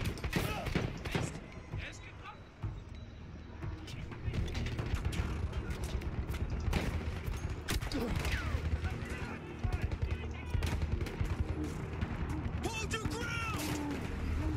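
Rapid video game gunfire, with bursts of sharp shots and mechanical clacks repeating throughout, close and loud, while a voice talks over it at times.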